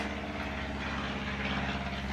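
A steady propeller aircraft drone near an airport, constant and fairly faint, with a low throbbing rumble and no voices.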